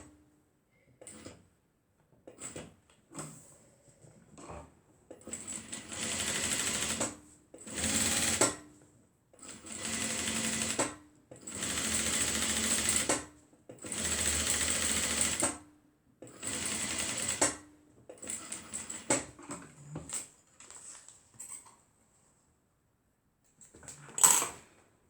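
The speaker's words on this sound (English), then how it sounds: "we've just finished stitching the other side" A sewing machine stitches a crossbody mini bag in repeated bursts of rapid, even whirring, separated by short pauses and small clicks as the fabric is adjusted, close and fairly quiet.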